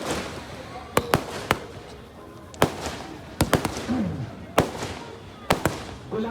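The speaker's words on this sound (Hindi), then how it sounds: "जबरदस्त आतिशबाजी रोशनी दिखाई दे रही है" Fireworks going off at a village fair, a string of sharp, loud bangs spread unevenly across several seconds with crackling between them, some bursts coming in quick pairs, over a murmuring crowd.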